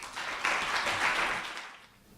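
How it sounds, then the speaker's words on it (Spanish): Audience applause at a lecture on spiritist mediumship, a moderate wash of clapping that swells twice and then fades away over about two seconds. "Un aplauso para Miguel."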